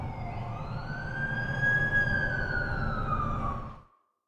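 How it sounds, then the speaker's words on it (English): An ambulance siren wails in a steady rising-and-falling tone, loud and close with road rumble beneath, then cuts off abruptly near the end. "That's the ambulance I called."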